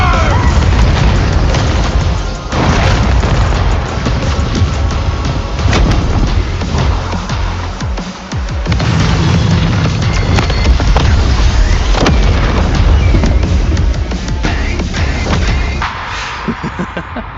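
Bakugo's Howitzer Impact attack in an anime fight erupts as loud, sustained booming explosions, one continuous roaring blast with rumbling swells and crackling bursts, briefly dipping before surging again and tailing off.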